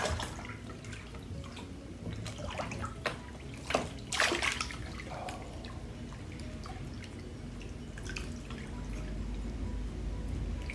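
Hot water runs into a bath, with dripping, splashing and sloshing that swell briefly midway and then settle into a soft steady trickle, fairly quiet and without talk.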